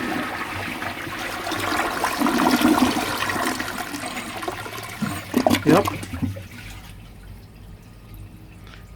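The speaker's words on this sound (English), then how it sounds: "So I'm gonna give this a flush and see if this can do a nice low flush." A rare 1957 Universal Rundle toilet in Dresden Blue gives a short flush, a loud rushing swirl of water that gurgles and drains away within several seconds, followed by near quiet and a brief spoken word.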